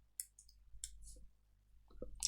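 Someone types on a computer keyboard in a quiet room, giving a few sparse, crisp key clicks that come in short bursts and are spaced irregularly.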